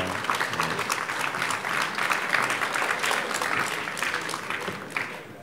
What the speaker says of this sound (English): I think you can clap better.